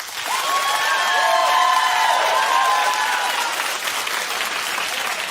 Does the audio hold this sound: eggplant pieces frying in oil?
no